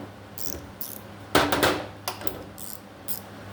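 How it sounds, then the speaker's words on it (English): Several sharp mechanical clicks of a 72-tooth mini double-head ratchet wrench, loud and close, arriving in short irregular bursts over a faint background. "The gears sound good."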